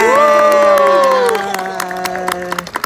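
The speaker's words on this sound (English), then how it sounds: "Let's give her a nice big round of" Crowd at a California sea lion show at the Long Island Aquarium, cheering and clapping near and loud, with whoops and children's shouts, fading into scattered claps.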